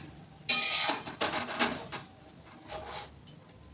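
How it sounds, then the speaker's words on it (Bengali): A kadai (wok) set down on a stove burner: a sharp metallic clank, then a few softer scraping rattles as it settles, close and fairly quiet, with no talking. "এবার আরেকটা চুলাতে আরেকটা কড়াই বসবে"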